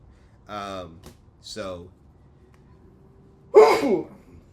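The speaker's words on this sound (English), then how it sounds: "kind of want to sneeze now" A single sharp sneeze bursts out near the end, loud and close, after two breathy intakes and a brief pause.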